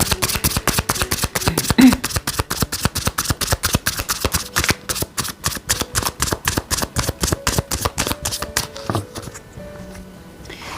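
Tarot cards are shuffled in quick, even riffling bursts, loud and close, slowing and thinning toward the end before falling quiet.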